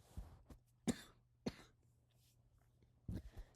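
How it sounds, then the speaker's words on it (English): Several short, dry coughs from one person, spaced out irregularly over a few seconds. The coughs are close but fairly quiet against a low steady hum in a quiet room. "Sorry for the coughing."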